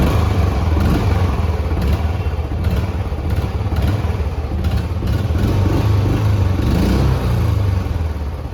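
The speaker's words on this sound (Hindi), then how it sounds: "तो कुछ इस तरीके का एग्जॉस्ट नोट आपको इस बाइक का सुनने को मिल जाता है।" A 2023 Royal Enfield Electra 350 motorcycle idles with a steady, close exhaust note: a continuous low thumping rumble that holds evenly throughout, with no talking.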